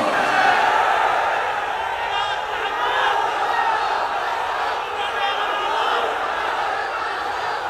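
A large crowd at an outdoor Islamic religious gathering in Lohagara shouts the takbir with raised hands, a dense, sustained roar of many voices filling the whole stretch at steady loudness.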